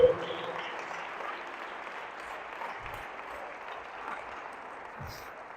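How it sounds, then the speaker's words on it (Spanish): A church congregation applauds, a faint, steady wash of many hands clapping from a distance that carries evenly for the full length with no voices standing out. "Denle un fuerte aplauso al Rey del Rey y Lord del Lord."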